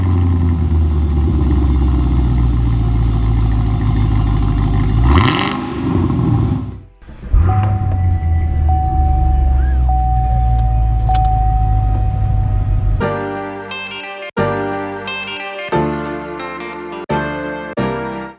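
A car engine with catalytic converters fitted idles with a deep exhaust rumble, then revs sharply several times in short bursts, close by.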